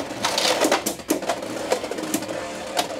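Beyblade X tops, a Cobalt Drake 4-60F and a Dran Sword 3-60F, whir and rattle in a chrome stadium, sharp clashing clicks ringing out at irregular moments over a continuous scraping spin.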